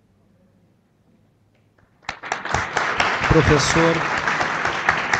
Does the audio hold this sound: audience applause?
yes